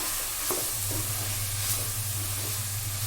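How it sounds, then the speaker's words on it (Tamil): Chicken pieces coated in ground masala fry in a pan for a village-style chicken curry, a steady close sizzle with a brief scrape of stirring near the start, no voices. "ஒரு 2 மினிட்ஸ் இந்த மசாலாலாம் வந்து சிக்கனில் நல்லா பிடிக்கிற மாதிரி நல்லா 2 மினிட்ஸ் நல்லா ஃப்ரை பண்ணிக்கலாம்"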